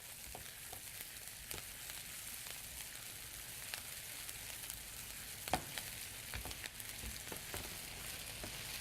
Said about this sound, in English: So I'm going to first just slow down lower the heat a little bit and saute my onions